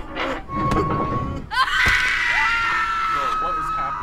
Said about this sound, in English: I hear someone screaming.